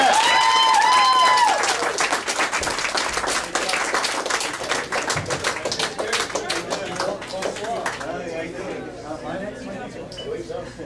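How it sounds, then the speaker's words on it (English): Loud comedy-show audience applause, dense clapping that starts strong, tails off gradually into scattered claps, with a voice briefly over the start. "let's give him a round of applause"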